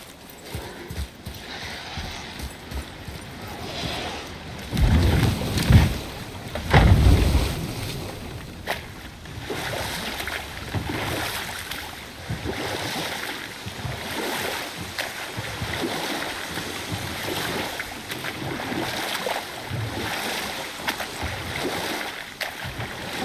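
A boat moves over water in the video game God of War, in Alfheim, with rhythmic knocking and splashing, wind noise throughout, and a louder surge of thumps early on.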